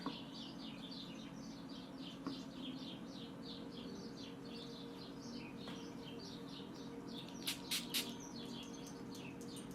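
Birds chirp repeatedly in quick high twittering bursts over a faint steady background hum, with a few louder sharp calls near the end; no talking.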